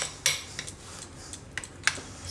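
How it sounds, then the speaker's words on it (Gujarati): Spoon stirring curd into spinach chutney, with a few sharp clinks against the bowl at irregular intervals over soft scraping and mixing, close and moderately quiet, no voices. "તો દહીં આપણે આમાં મિક્સ કરી દઉં ચટણીમાં"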